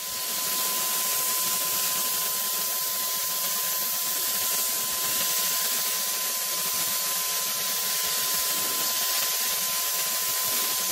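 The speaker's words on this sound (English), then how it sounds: "So all I have to do is put my respirator on and start spraying." A Wagner Flexio 5000 paint sprayer hisses continuously and loudly as it sprays, with a steady high motor whine running underneath and no pauses across the stretch.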